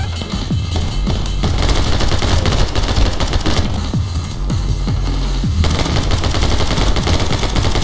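Loud, dense machine gun fire from the video game My Friend Pedro, rapid bursts overlapping into an almost unbroken barrage for the whole stretch, with heavy low booms mixed in.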